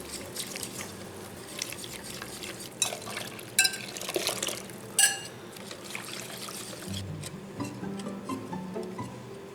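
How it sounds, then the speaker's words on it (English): A warm mixture of milk, melted butter and water is poured into cornmeal in a big bowl for bacon spoonbread, making a soft, steady liquid pour with faint splashes and clinks. Close and fairly quiet, without talk. "we're going to pour in the milk and butter and water mixture"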